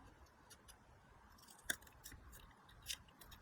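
Scissors trim a pop-up card's paper dress in a quiet room, giving one sharp snip in the middle and a fainter second cut near the end.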